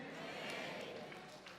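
A church congregation claps together during a Spanish-language sermon, a dense, steady wash of applause filling the room at low overall volume with no pauses.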